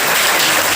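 Children clapping together in a small school classroom, a short burst of dense, steady applause filling the room at close range.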